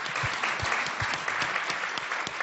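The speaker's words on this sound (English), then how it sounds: "give a round of applause, Sophia" A live show audience breaks into a round of applause for a 12-year-old girl, dense steady clapping close and loud, with no talk over it.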